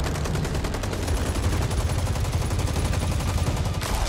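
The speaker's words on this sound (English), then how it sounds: "they seem to be shooting lead everywhere. In the form of bullets." Loud, continuous rapid gunfire from the Injustice 2 fighting game, a dense automatic burst running for several seconds with no pause.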